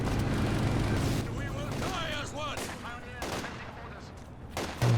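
Machine gun fire from a Penal squad in Company of Heroes 2 crackles in dense bursts under continuous battle noise, while a commentator talks over it.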